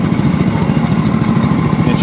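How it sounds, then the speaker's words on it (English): Polaris Sportsman 850 ATV engine idling underwater at Busco Beach, a steady low chugging burble with rapid even pulses, close and loud, with someone talking over it. "So obviously the bike's idling underwater"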